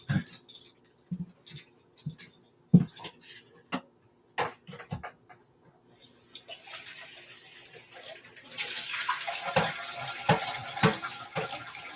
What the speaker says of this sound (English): Just gave that a rinse.